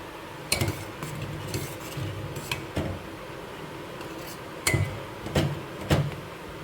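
A ladle scrapes and clinks against a pan while a homemade hair gel mixture is stirred, giving a few sharp metallic knocks spread over a quiet, close background.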